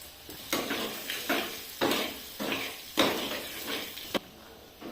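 Cabbage and grated ginger frying in a pan, with a spoon stirring through them in repeated scraping strokes about once a second over a steady close sizzle.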